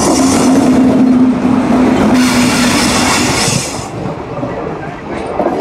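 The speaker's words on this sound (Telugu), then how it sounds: "చర్లపల్లి నుండి విశాఖపట్నం వెళ్ళే స్పెషల్ ట్రైన్ అండి ఇది వచ్చేసి" Charlapalli to Visakhapatnam special train rolling past near Vijayawada, a loud continuous rumble with a horn-like hum and wheel noise close by, easing slightly toward the end.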